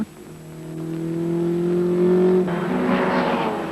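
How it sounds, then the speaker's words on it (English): Alfa Romeo GTA and Ford Cortina race cars on track at Sandown, a steady engine drone building in pitch and loudness as they pass, with a change in tone as one car overtakes. "the GTA passes the Cortina in the S's"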